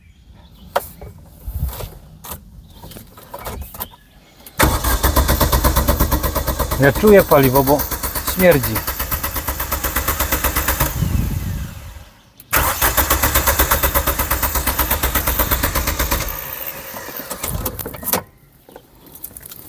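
A turbocharged Opel Speedster engine cranks repeatedly without catching, the starter whirring loud and close in two long bursts separated by a brief pause, with people talking nearby.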